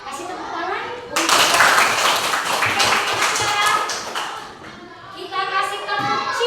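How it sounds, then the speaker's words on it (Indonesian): A primary school class clapping together in a classroom, a burst of brisk hand claps starting suddenly and running for several seconds, then a short second round, with children's voices and a teacher talking around it. "Kasih tepuk tangan untuk"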